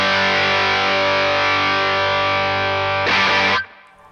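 Electric guitar through a Greer Gorilla Warfare MKII overdrive pedal with all knobs at 12 o'clock, holding one thick, gritty chord, followed by a short burst of hard strumming before it is cut off.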